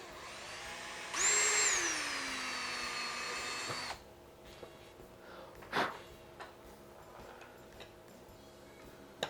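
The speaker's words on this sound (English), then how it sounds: "what I'm going to do is drill some holes in each side of the handle scale" A power drill boring holes in a knife handle scale during handle fitting: a high whining drill run of about three seconds that winds down, then quieter scattered taps and handling noises.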